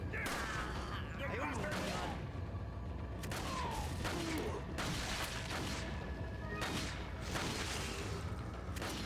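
Rapid, repeated gunfire in the video game Resident Evil 4, dense bursts of shots and booms continuing throughout at steady loudness.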